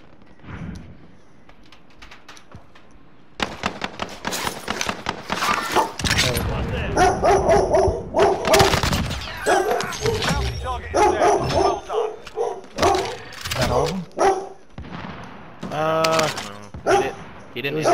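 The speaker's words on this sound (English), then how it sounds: "Fucking dogs." Dogs bark repeatedly in the shooter Warzone, loud bursts under excited talk and gunfire-like noise, starting after a few quiet seconds and continuing in uneven clusters.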